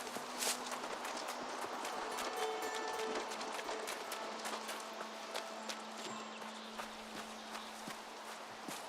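Horse hooves clip-clop in a steady walking rhythm in the video game New World, moderately quiet and close, with no talking over them.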